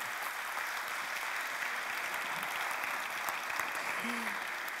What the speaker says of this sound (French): Vous pouvez les applaudir, hein, les vice-présidents.